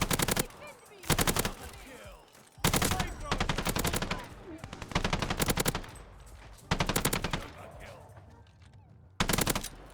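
A video-game automatic weapon fed from a 50-round drum fires in loud sustained bursts of rapid shots, about six bursts separated by short pauses, with a voice talking between them.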